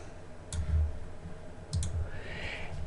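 A few sharp computer mouse clicks, a single click early and a quick double click later, close and fairly quiet against a low background hum.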